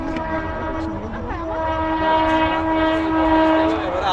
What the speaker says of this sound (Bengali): এই দূরে ট্রেন যাচ্ছে,